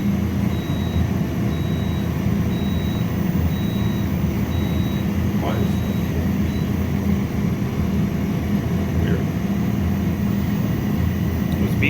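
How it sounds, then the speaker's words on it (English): Inside a Houston glassblowing studio, equipment gives off a thin, high electronic beep repeating at a steady pace for several seconds, faint above a constant loud roar of furnace and fan noise. "Beeping like I had an error"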